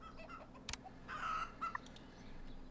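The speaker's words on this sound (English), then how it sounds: "I hear the chickens." A few short clucks from chickens in the farming game Farm Manager World, faint and scattered over a quiet ambient background, with a brief sharp click midway.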